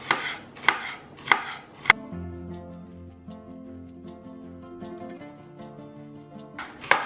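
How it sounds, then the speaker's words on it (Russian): Four crisp knife chops slicing bell pepper into strips against a cutting board, a quick rhythmic run, followed by a sustained musical hum and a final chop at the end. "И сейчас перец я режу соломкой."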